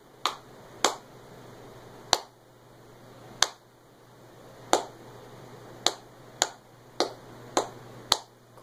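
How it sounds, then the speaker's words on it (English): Sharp, close hand claps tap out a rhythm from a beginning cello student, about a dozen crisp hits at uneven spacing in a quiet room. "So he's going to clap it first."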